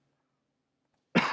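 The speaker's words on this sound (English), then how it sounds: "This cough, man." Silence, then a single sharp cough near the end, close and loud.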